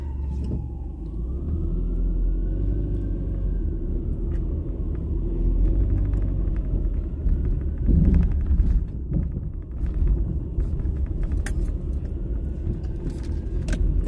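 A 2012 car drives along with a loose bracket at its front end rattling, light irregular metallic clatter riding over a continuous loud engine and road rumble from inside the cabin.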